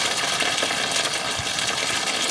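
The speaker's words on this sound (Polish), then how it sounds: "I po prostu się leje żywcem z tej rury." Water pours steadily from a cracked pipe on an American camper as the tank is drained, a continuous loud gushing hiss that stays close and unbroken throughout.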